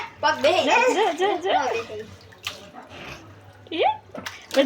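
A small child splashes water in a bath, with a few short, sharp splashes breaking through while someone speaks over most of the clip.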